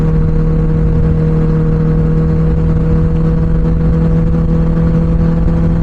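A Benelli 600i motorcycle's exhaust rumbles loud and close in a steady, deep droning note held throughout.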